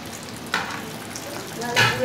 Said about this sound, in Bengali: তেলটা গরম হয়ে গেছে আমাদের, শুরু করে দেখুন ভাজা।